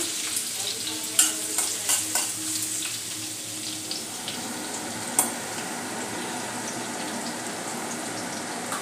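Finely chopped garlic, eight to ten cloves, sautéing in hot oil in a pan for Schezwan fried rice, giving a steady close sizzle with a few sharp clicks of a spoon stirring against the metal.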